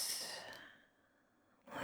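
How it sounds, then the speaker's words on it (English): A slow, soft out-breath during a qigong breathing exercise, a gentle airy exhale that fades to near silence before another breath begins; quiet and close, with no talking. "Breathing out,"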